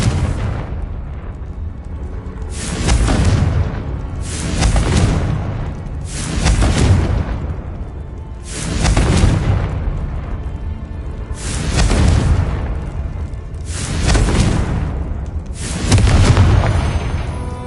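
Confringo fire spell blasts in the Hogwarts Legacy video game, six loud booming explosions spaced roughly two seconds apart, each a heavy burst that rumbles and fades before the next.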